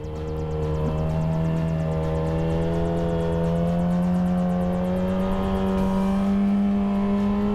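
A custom Yamaha R6 motorcycle rides at an easy pace on new tires, its engine droning loudly and steadily close up, pitch creeping slightly upward, with wind rushing over it.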